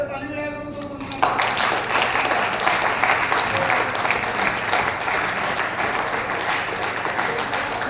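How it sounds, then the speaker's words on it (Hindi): An audience applauds at a lecture on income: a brief quiet opening, then dense, steady clapping from many hands that carries on loudly to the end. "ताली बजाएगा तो सुनना"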